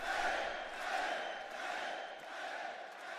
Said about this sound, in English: They're booing